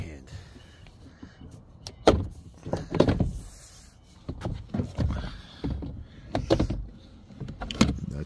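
A Honda Odyssey door panel is pried off by hand, giving several sharp plastic clip pops and thunks with rustling handling in between, close and moderately loud.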